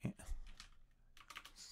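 Typing on a computer keyboard, a couple of quick bursts of soft keystrokes separated by a short pause, close and fairly quiet.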